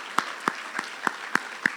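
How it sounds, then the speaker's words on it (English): Applause at a senior athletic awards ceremony, heard as six slow, evenly spaced hand claps at moderate volume with no talking over them. "Let's give her one more round of applause"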